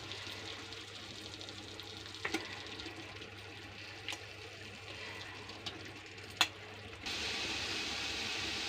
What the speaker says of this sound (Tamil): இந்த சிக்கனு இந்த மசாலையில் நல்லா மிக்ஸ் ஆகிற மாதிரி ஒரு 10 நிமிஷம் நல்லா பரட்டி விடுங்க